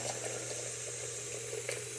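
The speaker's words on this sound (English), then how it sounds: "I like to fill up the sink and give it a good drain" Water runs from a bathroom faucet into a filling sink, a steady close rushing stream with an even, continuous hiss and no pauses.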